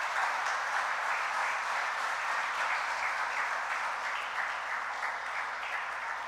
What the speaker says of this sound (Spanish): Dele un aplauso usted al Señor.